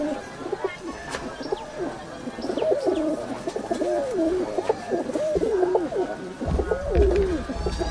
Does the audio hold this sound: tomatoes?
no